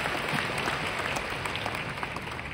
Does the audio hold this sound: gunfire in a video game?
no